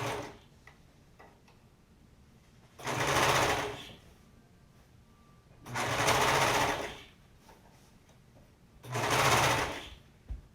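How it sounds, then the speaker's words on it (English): A sewing machine stitching a sleeve into a dress runs in three steady bursts of about a second and a half each, with a fast rhythmic whir and clatter, separated by quiet pauses while the fabric is adjusted. "We're going to sew it down."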